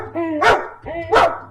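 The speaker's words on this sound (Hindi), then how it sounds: "दुखी से भौंकने लगी" A dog in a children's story barks sadly, two drawn-out whining barks, each rising into a sharp yelp, close and fairly loud.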